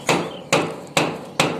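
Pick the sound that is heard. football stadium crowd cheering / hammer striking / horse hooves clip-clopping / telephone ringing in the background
hammer striking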